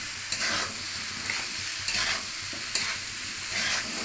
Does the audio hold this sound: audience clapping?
no